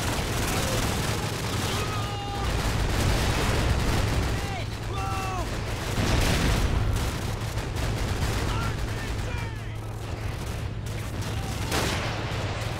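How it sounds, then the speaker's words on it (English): Rapid gunfire and grenade blasts from a Call of Duty 4: Modern Warfare battle at Veteran difficulty, a dense, continuous barrage with heavier booms around the middle and end, plus shouted radio-style voices and whistling projectiles in the mix. "they're still chucking grenades at me"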